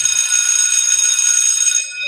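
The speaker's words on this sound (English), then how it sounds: "So let's ring the school bell here" A school bell rings loud and close in one continuous metallic trill for about two seconds, then stops.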